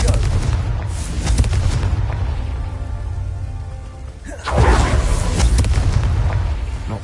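Confringo blasting spells in Hogwarts Legacy, played on Hard difficulty, land as heavy booming blasts over a crackling, rain-like rumble, with a sharp fresh explosion partway through, loud and close, no talk.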